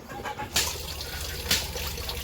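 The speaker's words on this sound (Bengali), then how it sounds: "বালতিটার মধ্যে নিতা তো ডিমগুলো ধুয়ে নিতেছে" Eggs are washed by hand in a bucket of water in a village home, with two distinct splashes and a soft trickle in between.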